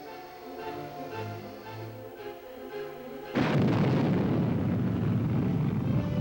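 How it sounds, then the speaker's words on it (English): A military missile fired from an army base roars into life after a quieter passage, becoming a sudden, sustained loud rumbling blast that holds steady to the end. "From such bases, USARPAC can hurl ground-to-air missiles equipped with nuclear warheads if necessary."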